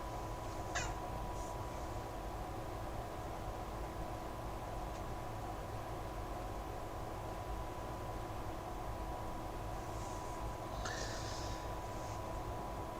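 A house cat meows a couple of times, short faint cries near the start and again toward the end, over a steady electronic hum and background noise.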